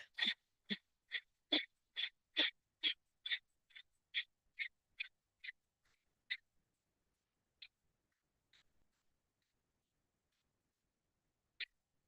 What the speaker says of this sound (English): Coming into stretch pose, lifting the head, hovering the heels, reaching forward, and activate breath of fire.